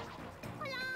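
A cat character in Yo-kai Watch 3 gives a short, rising meow cry, brief and clear over game background sound.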